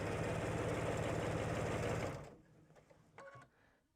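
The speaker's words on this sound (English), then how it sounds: "I backstitch along the edge just for that extra stability" A sewing machine stitches a backstitch along a seam edge, running steadily and fairly loud for about two seconds before stopping, followed by a few faint handling clicks.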